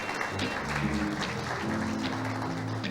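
Steady applause for visitors from a church congregation fills the space, with a low sustained musical tone continuing underneath.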